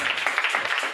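Applause from a gathered audience at a Christian wedding blessing, a dense burst of many hands clapping, close and loud, filling the whole brief moment.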